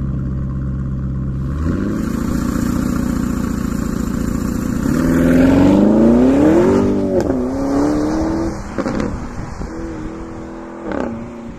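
A 2022 Porsche Cayenne Turbo GT accelerates hard, its engine note climbing through rising pitch sweeps with brief dips at gear changes. It sounds loud and close, with no talking.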